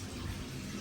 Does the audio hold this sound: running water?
yes